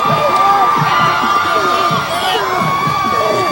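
A packed high school football crowd at the 2005 Paulsboro vs Glassboro South Jersey Group 1 final roars and cheers steadily, with whoops and shouting voices blending into a loud, sustained wall of sound.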